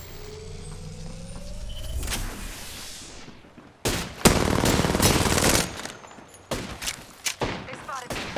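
Gunfire in Apex Legends: loud, close bursts of rapid automatic shots with sharp cracks, over steady game background noise and some voice.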